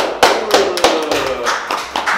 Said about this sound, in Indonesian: Tepuk tangan tuh, Bang.